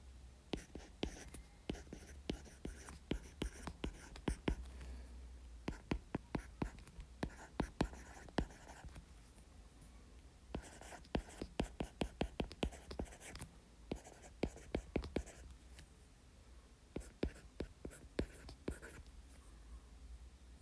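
Handwriting on paper during an English vocabulary lesson, with quick pen strokes and taps in irregular bursts separated by short pauses, close and quiet.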